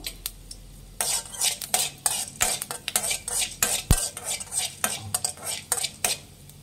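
Pepper in hot oil on a low flame, prepared for Mysore-style sambar powder, heard mostly as repeated metal spoon scrapes and stirring clinks against the pan with only a faint sizzle beneath.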